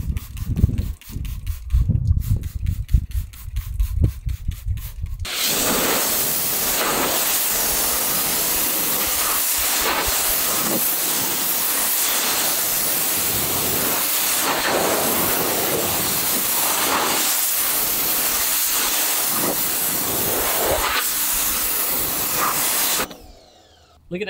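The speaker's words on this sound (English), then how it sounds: "You literally just spray it on and spray it off with water." Gyeon WetCoat sealant sprayed onto a Toyota Tacoma and rinsed off with a water hose: a few seconds of sputtering spray, then a long, steady, loud hiss of water that cuts off near the end.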